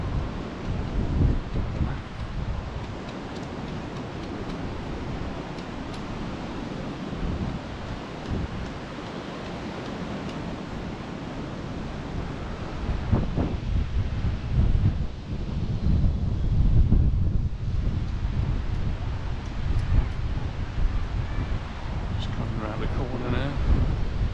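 Rough surf at Rhyl, North Wales rolls and crashes continuously, heavily buffeted by gusty wind on the microphone, growing louder toward the end.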